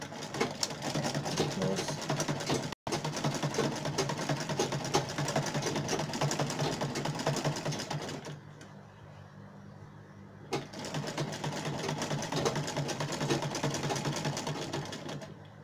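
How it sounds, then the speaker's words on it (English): Sewing machine stitching a front-zipper pencil skirt: a fast, steady mechanical whir with rapid needle clatter, briefly cut off, then resuming after a quieter pause and running on continuously. "So I'm going to go to my machine and sew this"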